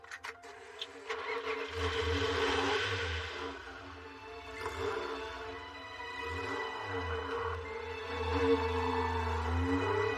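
A Jaguar XJ220, the classic British 200-mph supercar, rumbles with a deep, steady engine drone that swells as it revs, loud and close throughout with no talking over it.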